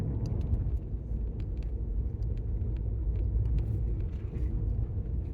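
An RV cruising slowly at about 36 mph on a quiet road, a steady low engine and road rumble heard from inside the cabin, with faint rattles on top.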